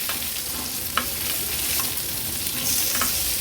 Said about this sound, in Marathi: मागची बाजू देखील सेम अशाच पद्धतीने फ्राय करून घेऊया.